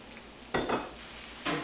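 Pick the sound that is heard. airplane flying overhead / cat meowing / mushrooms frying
mushrooms frying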